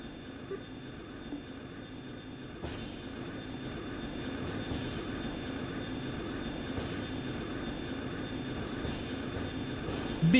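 Royal Army airship engine in the video game Trails in the Sky SC, landing: a steady low droning hum with faint rumbling, constant throughout with a slight swell at the end, no talk.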